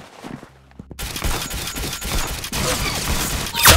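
Rapid gunfire in the Roblox-style shooter Arsenal, a dense, loud burst of overlapping shots after a brief quiet start, continuing steadily to the end of the clip with no talking.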